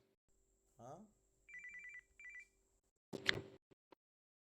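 A telephone rings in short electronic bursts, two clear repeated trills separated by pauses, fairly close and clean, followed by a brief clatter as if the handset is picked up.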